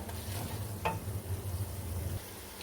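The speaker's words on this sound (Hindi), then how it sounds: "मसाले को हम अच्छी तरह से भून लेंगे।" Tomato masala frying in ghee for chana dal, a low bubbling sizzle with one sharp spoon knock against the pan and soft stirring, fairly quiet and close.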